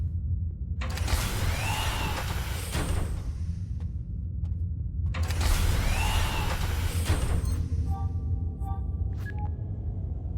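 In the video game Decrypt, a spaceship door aboard the ISS Travan opens with two long mechanical whooshes, each carrying a sliding whine. A few short electronic beeps and clicks follow.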